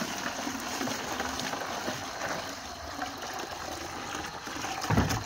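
Water is poured from a container into a bucket, a soft continuous splashing and trickling stream, close up and fairly quiet, with a small thump near the end.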